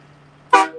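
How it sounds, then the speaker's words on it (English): Outdoors at a Freedom Convoy street protest, a truck air horn gives a loud blast, briefly drops, then blasts again, over a faint low hum. "Air horns are meant to be loud."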